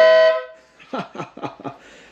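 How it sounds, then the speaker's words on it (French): A Peugeot 406 taxi gives one short, loud, steady car horn honk, followed by a person talking briefly nearby. "Un petit coup de klaxon."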